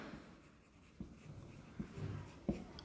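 Chalk or marker writing on a board, quiet scattered taps and short scratchy strokes with a soft knock near the end, set against a faint room hush with no voice.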